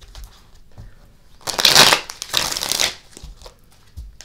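Tarot cards are shuffled by hand in two quick riffling bursts, close and crisp, with a few soft taps and handling noises around them.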